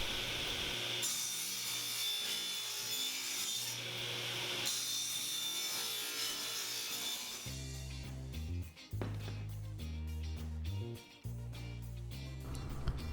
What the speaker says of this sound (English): Rotate, reclamp, and cut the next one.